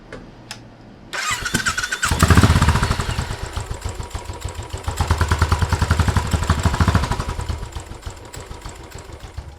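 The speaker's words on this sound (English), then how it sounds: "you're ready for a test start." A Royal Enfield motorcycle engine cranks and catches on a test start after battery and spark plug checks, then settles into a loud, rhythmic thumping idle up close, with revs swelling and easing again.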